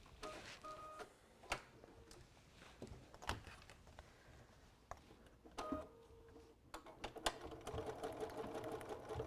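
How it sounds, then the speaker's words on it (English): A sewing machine stitches a pillow and back stitches, with quiet, uneven mechanical whirring runs, clicks and ticking bursts, faint and close, starting and stopping. "I'm going to sew to the bottom. I'm going to back stitch."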